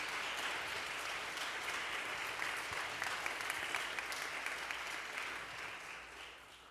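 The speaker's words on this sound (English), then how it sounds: "Let's just give another round of applause for all of these great performers." Steady audience applause fills a hall at a benefit show for ALS held in a church, dense and continuous throughout, tapering slightly near the end.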